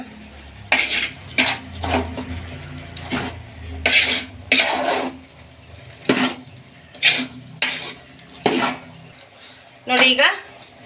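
A metal spoon stirs a green bean and soya chunk palya with grated coconut and coriander leaves, clanking against the pan in about a dozen close, irregular scrapes and clinks, with short pauses between strokes.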